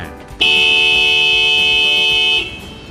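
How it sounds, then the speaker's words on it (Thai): A Hino truck's horn gives a single steady blast, loud and close, held for about two seconds before cutting off, with faint background noise around it. "ตรวจสอบเสียงแตร"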